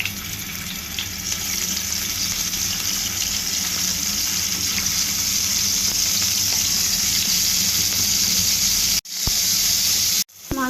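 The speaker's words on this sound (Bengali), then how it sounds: "এখানে ফ্রাইপ্যান বসাই দিচ্ছি মাছ ভাজার জন্য।" Turmeric-coated prawns fry in a frying pan with a loud, continuous close sizzle and spatter, broken by two brief dips near the end.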